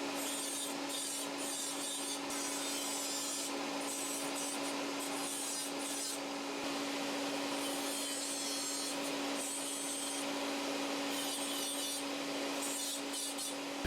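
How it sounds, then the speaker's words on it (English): A two-sided diamond disc trims an acrylic provisional dental crown with a steady, continuous high grinding and rasping whine, close and loud throughout, with no speech. "this is just a 2-sided diamond disc, and I use that for the initial trimming"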